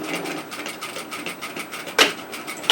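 A sewing machine runs in quick pulsing bursts while stitching across the top of an unlined reusable tote bag, close and fairly loud, with a sharp click near the end as it stops to pivot.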